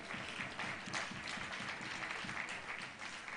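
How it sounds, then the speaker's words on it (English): Applause from women in the audience at a leadership prize lecture, a soft, steady patter of clapping heard from a distance throughout, faint and even. "I can see that it's the women that are clapping for me"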